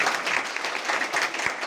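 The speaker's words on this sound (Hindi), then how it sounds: "इन लोगों के लिए जोरदार ताली होनी चाहिए साहब।" Audience applause at a talk, a dense burst of many hands clapping together, steady and fairly loud throughout the short stretch, with no voices.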